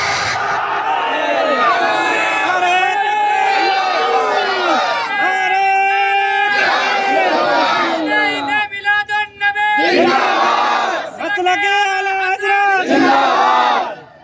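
Large crowd at an Eid Milad-un-Nabi gathering loudly chanting the religious slogan Ya Rasool Allah in repeated call-and-response bursts, voices echoing in a big space with brief pauses between chants.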